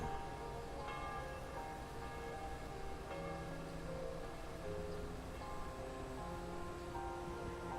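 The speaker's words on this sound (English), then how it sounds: "Bells are ringing." Bells ringing in the video game Trails of Cold Steel III: sustained, overlapping bell tones over a dense, steady ambient bed, with no talk.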